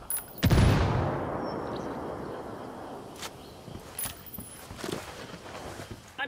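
Gunfire in a video game battle: one loud, close blast near the start fades into a rumbling tail, followed by scattered sharper shots and cracks at intervals, with no talking.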